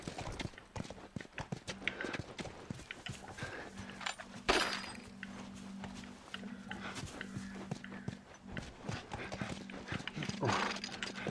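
Steady clip-clop of horse hooves with an occasional whinny in The Last of Us on PS3, over a constant low hum and scattered clicks, a sharp burst midway.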